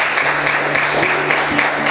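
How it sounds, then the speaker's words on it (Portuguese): A church congregation at an evening service applauds in a dense, sustained clapping wash, loud and close, with a faint tonal hum underneath and no gaps over the short stretch. "vamos aplaudir o Senhor com muita alegria nessa noite"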